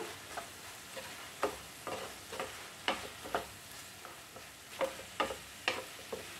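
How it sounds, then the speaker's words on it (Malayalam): A spoon stirs spice powders sautéing in a pan for vegetable kurma, with repeated scraping strokes every half second or so over a low, steady sizzle, close and clear with no talking. "ഇനി നമുക്ക് പൊടികളൊന്ന് വഴറ്റിയെടുക്കാം."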